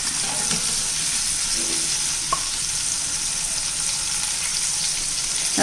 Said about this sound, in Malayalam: പൊടിയും കൂടെ ഒന്ന് വഴറ്റിയെടുക്കാം നമുക്ക്.